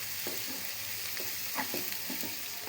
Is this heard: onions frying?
yes